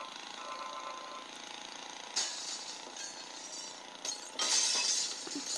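A glass panel shatters in the Happy Wheels video game, with two bright crashing bursts separated by a few seconds over a steady low rumbling background.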